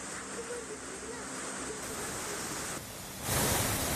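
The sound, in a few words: flooded Savitri river rushing water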